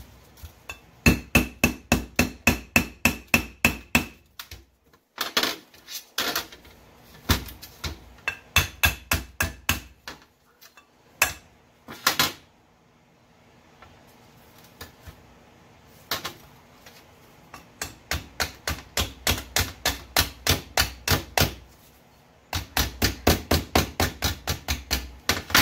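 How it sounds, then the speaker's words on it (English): A hammer bangs on the front end of a 2003 Express van during a pump replacement, rapid clusters of sharp metallic blows, some long rhythmic runs and some isolated strikes, loud and close, with no talk. "Yeah, you need to have your hammer."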